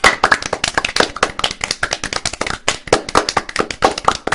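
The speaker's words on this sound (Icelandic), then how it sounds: "Leikhljóð, klapp og hlátur utan úr sal." Applause rings out from an audience at a circus-themed show, a dense, fast run of loud sharp hand claps close by, with no clear laughter standing out above the clapping.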